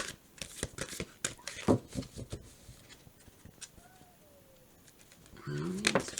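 Large tarot cards are shuffled close up in a series of sharp, papery riffling bursts, followed by a quieter stretch and a louder rustle at the end.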